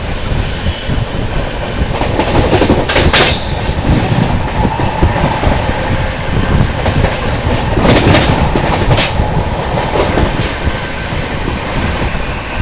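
Dehradun–Subedarganj Express passenger train rushing past at close range, a loud, steady rumble of wheels and carriages with rhythmic clatter and gusty whooshes running throughout.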